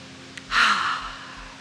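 A single deep breath drawn in, a soft airy inhale that swells briefly and then tapers off, close to the microphone with no talking.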